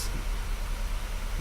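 A Southwest Airlines Boeing 737-700 in Microsoft Flight Simulator fills its cabin with a steady, smooth broadband white-noise hum and a low rumble, continuous and without voices.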